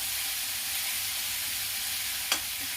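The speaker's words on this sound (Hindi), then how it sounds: "इसे 1-2 मिनट भून लूंगी" Coriander leaves, chili and garlic fry in a pan as a soft, steady sizzle with one brief sharper pop near the end, quiet and close, with no talking.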